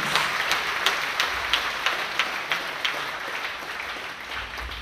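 A church congregation claps in a quick, steady rhythm during a sermon, each clap crisp but modest in level over a soft, wash-like background.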